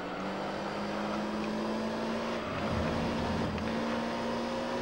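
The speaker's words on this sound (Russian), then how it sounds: "звук мотора у нее поагрессивнее, чем у CLK" Steady, droning race-car engine from the Gran Turismo 3: A-Spec video game holds a fairly constant pitch throughout, a continuous close mechanical hum with no talking.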